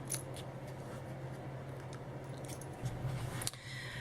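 Scissors trim small paper craft pieces for a paper pumpkin card project, giving soft intermittent snips and light rustling, close and quiet with no talking.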